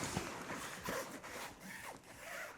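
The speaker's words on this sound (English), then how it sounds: "it zips, but that is tight" A zipper is pulled along a tightly stuffed EVERGOODS Transit Duffel 35L bag holding a laptop, a close series of rasping, scraping strokes in several short pulls.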